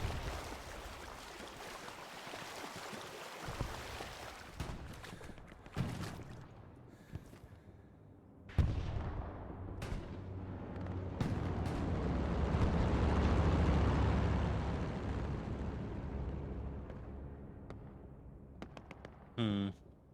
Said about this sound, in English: I'm hearing artillery shooting off